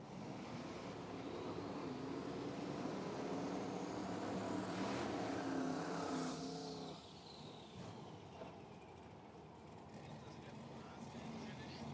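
A Plymouth Duster with an LS turbo engine drag racing at South Georgia Motorsports Park's Lights Out 17 event gives a loud, continuous roar that eases off around midway, with people talking over it.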